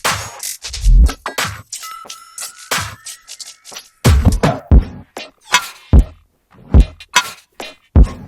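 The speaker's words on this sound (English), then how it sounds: "Fun thing about this loop, it's actually made only from a flexitone." A bouncy drum loop built entirely from flexitone hits, with sharp knocks, clanging metallic tones and a bending pitched twang repeating in an uneven, swung rhythm, loud and close.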